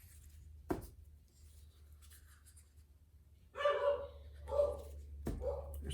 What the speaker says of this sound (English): There's my doggy barking.